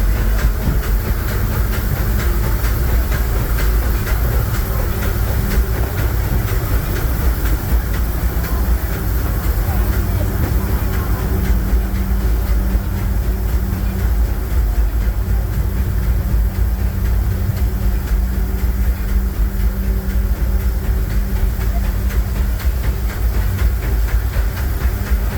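The Disneyland Railroad steam train rolls along with a continuous loud rumble, hiss and rattle of its cars on the track, passing Hungry Bear Restaurant in Critter Country. An onboard narration voice runs faintly beneath the noise.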